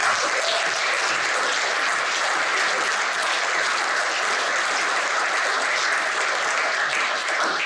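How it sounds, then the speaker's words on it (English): A large crowd at a gala applauds in a dense, sustained wash of clapping that stays loud and steady from start to finish, with no voices standing out. "if everyone could just sort of give a big round of applause to Khalid."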